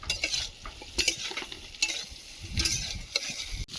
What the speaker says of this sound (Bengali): ঝিঙেটা দিয়ে আরো একটু ভেজে নেব